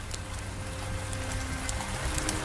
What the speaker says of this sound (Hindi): ये बारिश कुछ ज्यादा ही तेज हो रही है।